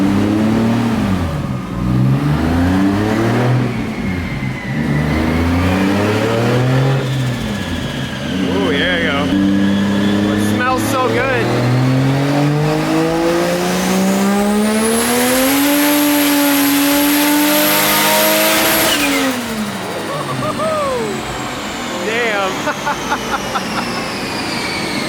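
Loud, close Toyota Supra engine fitted with a bigger turbo, revving repeatedly: the pitch climbs and falls in several rising pulls, ending with a long sustained high rev before dropping back.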